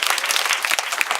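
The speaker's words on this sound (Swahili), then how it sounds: "Tuwapigie makofi." Audience applause for the Gifted Compassionate School, continuous dense clapping from a crowd, even and sustained, with no talk.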